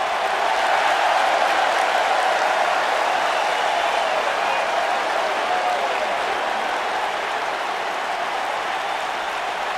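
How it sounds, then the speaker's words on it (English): A large arena crowd in WWE 2K19 keeps up a steady chant for Kalisto, the Lucha Dragon, a dense continuous roar of cheering voices that stays loud and even throughout. "the crowd is chanting for the Lucha Dragon"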